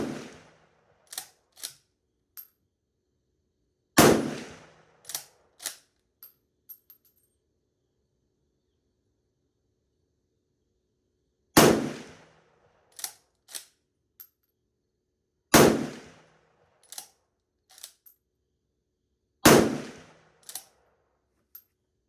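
Five Swiss K11 rifle shots fired at a 100-yard range, each a sharp loud crack with echoing decay, spaced several seconds apart amid smaller clinks of the bolt cycling and brass ejecting.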